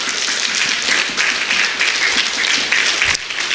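Deacons at a church Friday worship service applauding, a dense continuous burst of many hands clapping together for several seconds, loud and close.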